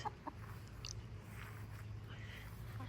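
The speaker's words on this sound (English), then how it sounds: "Chickens." Faint clucking from chickens near a vegetable garden, a few short calls over a steady low hum.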